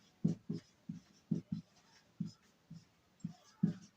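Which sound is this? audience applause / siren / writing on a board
writing on a board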